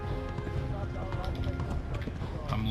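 Horse hooves clip-clop at a gallop in the medieval video game Kingdom Come: Deliverance, a steady rhythmic beat under a dense game soundscape with voices talking over it.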